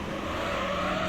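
TVR race car in Gran Turismo 3, a steady loud engine drone holding a high constant pitch, continuous and unbroken without voices.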